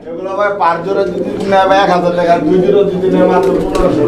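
Racer pigeon chicks, a red checker and a grizzle, coo softly at a pigeon seller's, their low calls partly buried under someone talking throughout.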